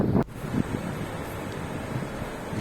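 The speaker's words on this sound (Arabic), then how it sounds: "بتعيشوا جو البحر في البرازيل" Sea waves rolling onto a wide beach in Brazil, a steady wash of surf with gusty wind buffeting the microphone, one sharp bump near the start, no voices.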